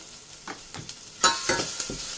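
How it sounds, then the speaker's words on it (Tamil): Garlic and curry leaves sauté in hot oil in a pan for horse gram sambar, a soft continuous sizzle broken by scraping stirs and a louder flare of frying midway. "சேர்த்திட்டு நல்லா வதக்கிக்கோங்க."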